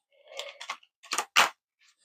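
A deck of oracle cards is shuffled by hand, with several quick riffling, papery bursts in short clusters, close and fairly quiet.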